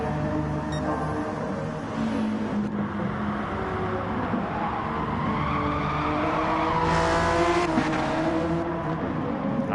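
Race cars, a BMW and a Honda, roar past on a circuit with tires squealing and engines revving, the loud, close screech and shifting engine pitch swelling toward the end.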